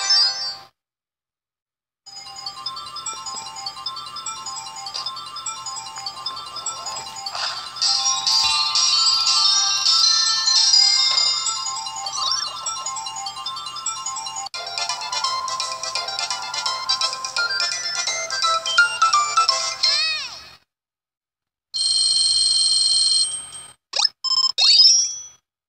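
Bright, ringing chime-like tones from Kirby Triple Deluxe repeat steadily over a low hum for about twenty seconds, stop abruptly, then return in a short loud burst near the end.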